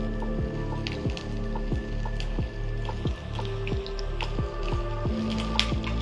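Drained pointed gourd pieces go into hot oil for potol posto, giving a steady close sizzle and crackle with repeated soft wet pops throughout, no voices.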